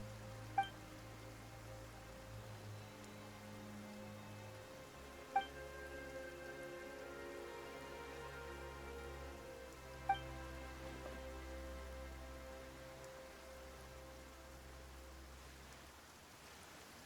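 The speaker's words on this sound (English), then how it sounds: "Why is it raining all of a sudden?" Rain falls steadily in the game Genshin Impact, a soft continuous patter beneath a low sustained musical drone, with three faint chime-like accents spaced evenly through.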